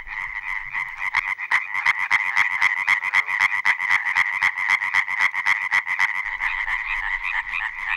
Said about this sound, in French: C'est comme une petite grenouille toute verte avec des ventouses au bout des pattes. Elle est arboricole